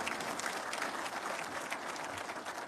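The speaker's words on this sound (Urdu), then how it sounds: "بھائی تالیاں لگائیں" Dense, steady applause fills the hall from a large audience at a Pakistani official address, a continuous wash of many hands clapping at once.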